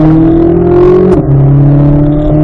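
A car accelerates hard around a cone course and shifts into fourth gear; the loud, close engine drone climbs in pitch, breaks briefly at the shift, then resumes at a lower pitch.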